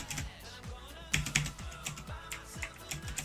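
Fingers rattle across a computer keyboard during a Fortnite game, with rapid irregular clicks and a few louder key strikes, close and fairly quiet, with no talking over them.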